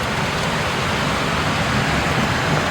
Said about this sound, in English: that's a serious storm.